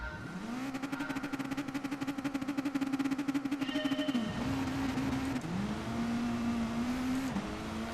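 A rally car's engine in GT Sport holds a steady high rev with a rapid pulsing rasp during a standing start on dirt, then the pitch drops and climbs again through gear changes, loud and close.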